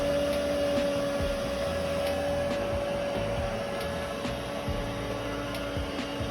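Liectroux L200 robot vacuum cleaner running indoors on the floor, giving a steady close motor whine and airflow hiss with constant low rumble and faint brushing, unbroken for the whole stretch with no talk.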